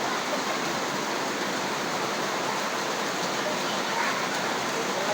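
Heavy rain pours steadily in a flood-prone village area, a dense unbroken hiss that stays even and close throughout, with no voices heard.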